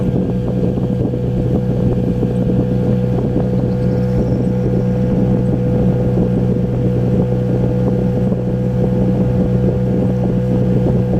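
A motorboat engine drones steadily and loudly throughout while heading upwind, with wind buffeting the microphone and no talking.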